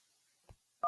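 Telephone touch-tone dialing as a caller is connected to a radio call-in show: a faint low blip, then a loud steady dual-tone beep at the end, with no voices.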